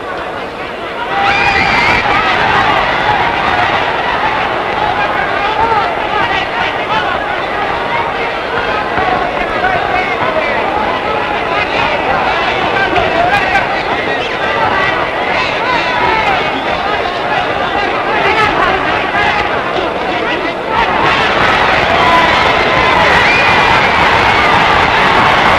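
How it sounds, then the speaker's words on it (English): A boxing crowd roars loudly and steadily around the ring as a Carlos Ortiz fight ends in a knockdown and TKO, a dense wall of cheering and shouting that swells even louder near the end. "Listen to that crowd."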